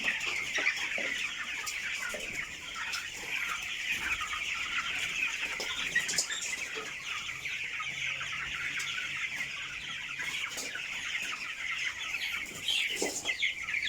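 Broiler chickens about three weeks old in a farm house keep up a dense chorus of soft clucks and chirps, steady and fairly faint, with occasional wing flutters and no one talking.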